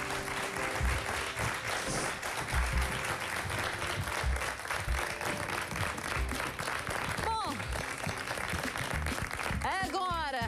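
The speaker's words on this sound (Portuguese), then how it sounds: "Um grande aplauso." Television studio audience breaking into sustained applause, dense and steady clapping throughout, with a voice speaking over it near the end.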